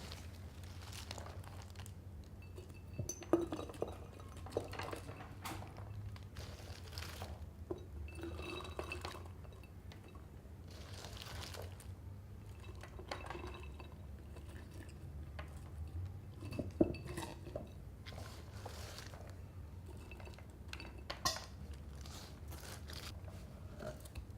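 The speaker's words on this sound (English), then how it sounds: "now we're going to put it in our fermentation vessel" Kimchi is packed into a glass fermentation vessel with soft wet squelches, crinkles and a few light glassy clinks, quiet and close, with no talking.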